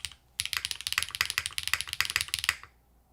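Rapid, steady keystrokes on a Glitter65 mechanical keyboard with HMX Yogurt switches on a PC plate, close up and alone, a dense run of clacks lasting about two seconds before stopping.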